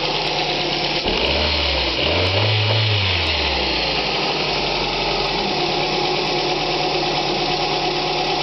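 A Ford Focus 1.8 Ghia exhaust idles steadily up close from behind, a low continuous rumble with a brief deeper swell early on, no talking.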